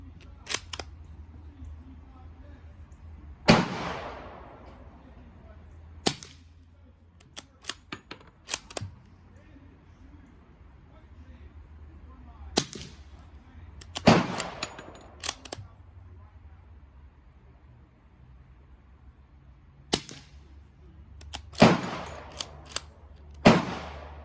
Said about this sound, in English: So there's our 5 rounds of 38 Special through the suppressor.